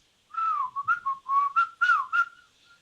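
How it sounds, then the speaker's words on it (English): A short phrase whistled in an Amazonian tribal language, a word meaning a paca rodent is nearby, rendered as a string of clear melodic whistles that rise and fall in speech-like rhythm, close and alone. "or I can whistle it."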